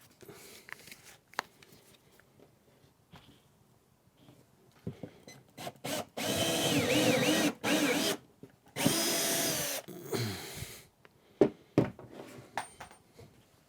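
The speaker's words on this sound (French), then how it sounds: "je vais m'assurer de mettre la mèche un peu plus longue, plus en longueur, que je puisse atteindre le bout du tasseau" A power drill fitted with a long bit bores into a wooden batten, whining loudly in two sustained bursts, with a few clicks and knocks of handling before and after.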